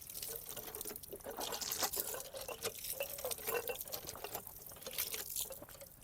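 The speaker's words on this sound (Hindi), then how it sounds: "पानी भी ज़बरदस्त है, ठंडा पानी है।" Cold water in a village runs and drips, a faint, uneven trickle with scattered splashes and drops heard close by, no talking.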